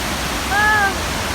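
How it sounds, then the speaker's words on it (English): Rushing water from a waterfall makes a loud, steady broadband roar, and a brief whistle-like tone rises above it in the middle. "And you can hear the water."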